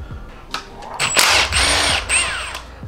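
A power tool, likely a drill or impact driver, works bolts loose while a 1JZ engine's sump is removed, running in several close, loud bursts with short pauses in between.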